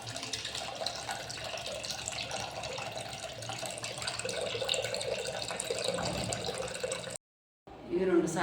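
Foxtail millet is rinsed in water, with a soft, continuous splashing and running-water wash close by, briefly cut off near the end.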